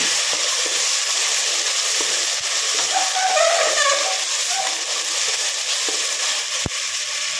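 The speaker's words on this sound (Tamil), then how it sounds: "வெங்காயம், வரமிளகாயும் போட்டுக்கலாங்க. நல்லா கிளறி விடுங்க." Onions and dried red chilies sizzle steadily in a hot pan for sambar rice, a broad continuous frying hiss with faint scraping as they are stirred, plus one sharp knock near the end.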